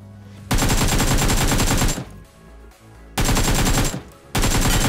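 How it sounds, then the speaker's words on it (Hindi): Rapid automatic gunfire from the Free Fire video game rattles out in two long, loud bursts, with a quieter gap between them and a third burst starting at the end. "फायरिंग चल रही थी अगेन"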